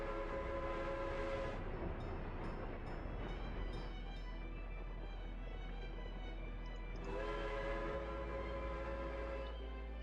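Trains rumbling along tracks in a railway building video game, with a continuous low rolling drone and loud horn or whistle tones at the start and again near the end, with no talking.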